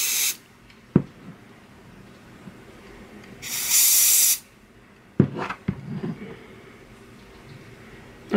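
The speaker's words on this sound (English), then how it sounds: "just like spray paint, you're just gonna spray" Spray paint from an aerosol can is misted in a light coat onto an acrylic keychain, one steady hiss lasting about a second, loud and close, with a quiet gap before it and faint handling knocks and clatter after.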